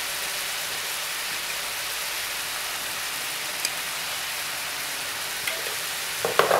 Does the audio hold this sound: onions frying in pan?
yes